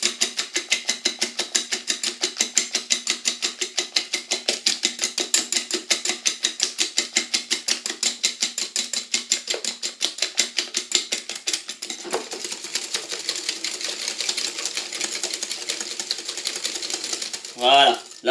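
An electric mixer beats eggs with sugar for a cinnamon apple cake batter, giving a steady rapid whirring clatter that runs nearly the whole time, then cuts off with a short burst at the end; no one speaks.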